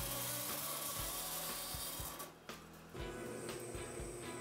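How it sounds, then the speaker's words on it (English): A bandsaw cuts brass spacer stock for a full-tang knife handle, giving a steady, loud rasping drone that briefly dips midway before resuming, with no voices. "Scribe handle lines into the brass spacer material, and then cut it out with the bandsaw."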